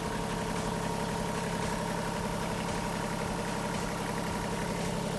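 A Kubota GL261 compact tractor with a cab idles steadily and close by, its even engine drone running without a break for the whole stretch.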